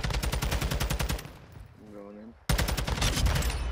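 Rapid automatic gunfire rattles loud and close in a Call of Duty match, a fast rhythmic stream of shots that breaks off briefly for a short tonal game sound, then resumes just as hard.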